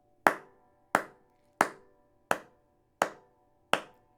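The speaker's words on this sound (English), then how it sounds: "after you clap with the metronome for maybe 15 or 20 seconds, you'll start to lock in" Six crisp, evenly spaced hand claps keep steady time with a metronome, each a sharp close slap that decays quickly into a brief ring, alone in a quiet room with no talking.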